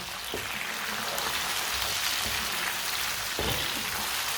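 Chopped tomatoes and green chilli cook in a pan for an aloo, matar and gajar vegetable dish, giving a steady, close, hissing sizzle with a couple of faint clinks.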